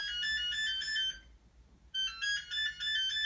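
A phone rings with a bright electronic ringtone, two bursts of rapid repeating tones separated by a short pause, prominent and close in an otherwise quiet indoor space.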